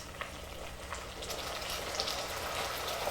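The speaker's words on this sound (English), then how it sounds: "It's going to splatter just a little bit." Cream drizzled into hot caramel with melted butter for salted caramel sauce, making a steady, soft, close sizzling hiss with light splattering crackles and no talk.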